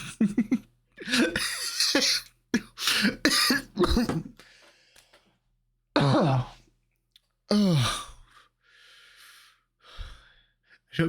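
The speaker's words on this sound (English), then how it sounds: "I shouldn't be coughing like this." A man with a sore throat, just over a cold, coughs repeatedly in harsh bursts with gasping breaths and sighs between them, close and alone, no words spoken.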